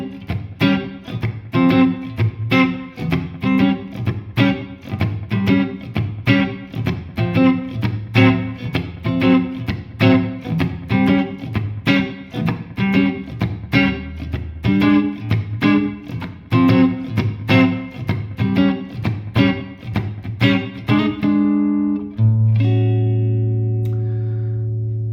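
Electric guitar comping a shuffle blues groove, steady swung chord stabs landing on downbeats with a major third, loud and alone, ending on a sustained ringing chord.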